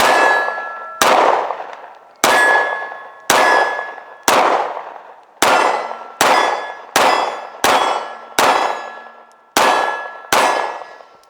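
A Smith & Wesson 6906 compact handgun fires about eleven sharp, loud shots at uneven intervals, each crack trailing off in a ringing, clanging decay with silence between bursts and no talking.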